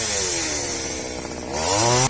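A chainsaw cuts through a tree in a garden, a loud continuous buzzing whine that holds steady and then rises in pitch as the engine revs near the end.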